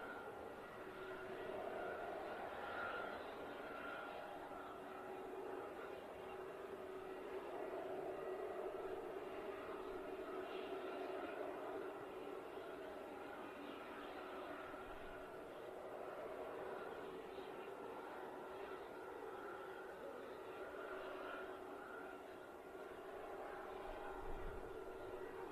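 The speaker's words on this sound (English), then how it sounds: "do have a Logan Air CRJ just waiting over here on the south side, waiting for clearance to enter the active departure runway" A Logan Air CRJ jet holds near the active departure runway on an airport's south side, its engines giving a steady, continuous distant roar that stays even throughout.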